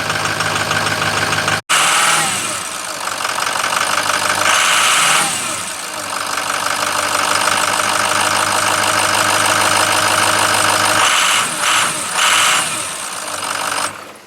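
A 6.0 Powerstroke diesel engine runs at a steady idle, loud and close, with a constant rough clattering rumble that holds for the whole stretch after a brief dropout near the start; no speech.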